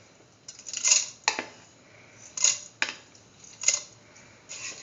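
Washed, soaked rice poured into a pressure cooker, giving a series of light metallic clinks and scraping taps against the pot, spaced irregularly and fairly close.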